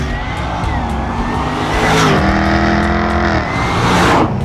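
A Jaguar SVR sports car's engine and exhaust roar loudly at close range, with rising revs, a sharp crackling shift and another climbing pull through the gears.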